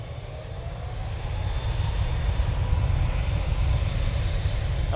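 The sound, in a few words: TUI passenger jet at Manchester Airport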